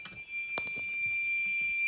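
Old fire alarm system sounding during a test, a steady high-pitched electronic tone continuing throughout, with a sharp click and some handling noise partway through.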